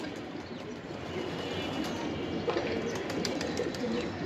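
Pigeons coo in a fancy-breed loft, soft repeated calls rising over a steady rustling background with occasional brief wing flutters, no talking.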